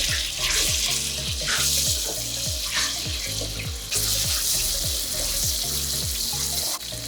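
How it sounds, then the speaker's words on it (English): Blended ginger and garlic fry in hot oil in a pot as the base of a Ghanaian stew, giving a loud, continuous close sizzle with rhythmic stirring scrapes throughout. "after you fry this for about 2 minutes, 2 to 3 minutes"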